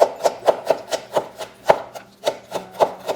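A knife chops fresh herbs on a cutting board for Jamaican ackee and saltfish, giving steady, evenly spaced sharp knocks, about a dozen in quick rhythm, close and clear with no talking.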